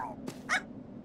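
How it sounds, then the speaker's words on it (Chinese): A Pomeranian dog in the PS3 video game Tokyo Jungle gives a short, faint yip or whimper, a couple of quick high-pitched bursts within about a second. "被人类圈养过的博美狗已经长大喽"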